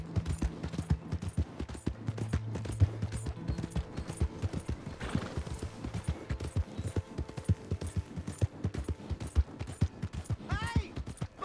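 Horse hooves clip-clop rapidly and continuously in the Red Dead Redemption 2 video game, a dense galloping rhythm with faint background voices and game sounds.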